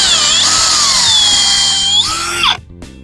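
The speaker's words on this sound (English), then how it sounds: "when you're drilling into or screwing into plywood, you really want to pre-drill it." A power drill fitted with a countersink bit pre-drilling plywood, a loud, close, high whining spin that shifts in pitch as the bit works, then cuts off abruptly near the end.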